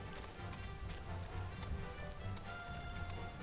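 Horse hooves clip-clop steadily in the online role-playing game Final Fantasy XIV, a quiet rapid rhythm of light taps under a dense wash of game music and ambience.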